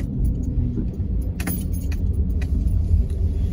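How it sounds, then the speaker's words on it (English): Road traffic hums around a car on a Bankstown driving test route, a steady low rumble from inside the vehicle with a few brief jingling rattles in the cabin. "Traffic surrounding here."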